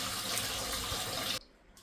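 Water runs hard from a tap into a sink while freshly cut fish is rinsed, a steady loud rush that stops abruptly near the end.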